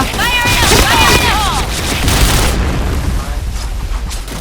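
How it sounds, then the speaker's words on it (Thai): Booming grenade explosion in the game Point Blank, a rolling, rumbling blast that fades out, heard under hurried talk and game sound effects. "ยังไงระเบิดมาแล้ว"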